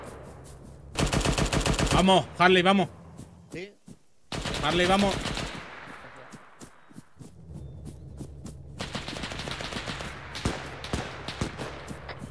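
Machine-gun fire in the Arma game mode 82AD Liberation: two long, loud sustained bursts, then scattered lighter shots and footsteps, with someone shouting briefly between the bursts.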